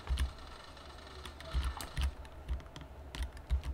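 Computer keyboard keys clatter in quick uneven bursts while a Battle Guys match is played, close and moderately loud, with no talk over the clicks.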